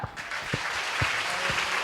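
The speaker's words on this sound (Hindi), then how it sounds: "आइए एक साथ ताली बजाए।" A church congregation at a Sunday worship service claps together in a steady rhythmic beat, with full-room applause and evenly spaced low thumps roughly every half second.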